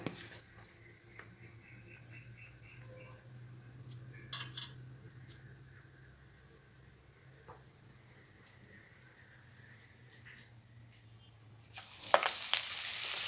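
Soft, low sizzling of millet pakoda frying in oil, with faint clinks and stirring, then a sudden loud burst of crackling sizzle as more batter hits the oil.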